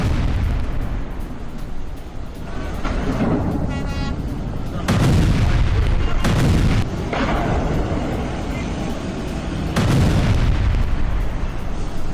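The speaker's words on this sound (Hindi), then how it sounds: "देखिए, चारों तरफ आग लगी हुई है, जोरदार धमाका होता है।" A missile and rocket attack on a military base brings a series of heavy explosions. Loud booms with long rumbling tails break out every few seconds over constant roaring noise.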